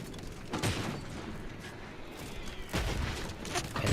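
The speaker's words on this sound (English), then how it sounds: "Okay, they're bombing us again" Distant, muffled bombing explosions from The Outer Worlds 2 thud irregularly, with a couple of heavier booms rising above a rumbling battlefield background.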